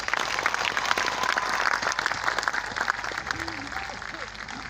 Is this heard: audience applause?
yes